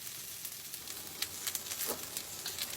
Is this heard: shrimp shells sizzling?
yes